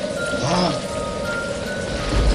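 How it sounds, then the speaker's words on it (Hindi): Rain falling at a distance around an old haveli, a steady soft hiss of drops that stays even and faint throughout with no other clear sound on top. "दूर में ये बारिश हो रही है।"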